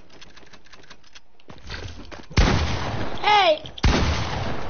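Gunshots in a video game, a few sharp loud bursts of gunfire with a brief electronic chirping sound between them, after someone shouts.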